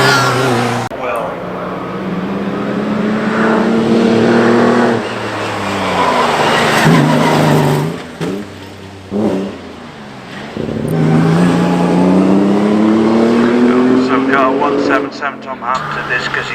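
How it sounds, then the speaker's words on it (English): Vintage race car with a pre-selector gearbox accelerating hard at the Prescott hillclimb, its engine rising in pitch through the gears, loud and close, with a brief lift around the middle before pulling away again; people talk over it. "Now accelerates on that pre-selector."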